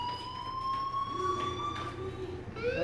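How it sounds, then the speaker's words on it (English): Steady electronic fire alarm tone in the game Life is Strange, a continuous high wail sounding throughout at moderate level over a background rumble. "do you hear that fire alarm?"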